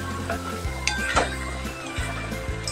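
Carrot halwa with ghee is stirred and fried in a pan, with a soft continuous sizzle and repeated scraping strokes of a spoon against the metal close by.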